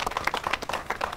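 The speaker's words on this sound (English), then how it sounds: "a round of applause for her as she comes out." A brief burst of audience applause on a Nigerian morning TV show, close and fairly loud, with distinct rhythmic claps.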